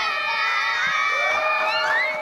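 Children and a school cheer team cheer and shout together in a loud, sustained burst of high excited voices at an elementary school coat delivery.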